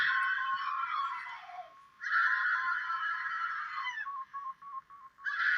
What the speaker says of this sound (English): Someone's screaming.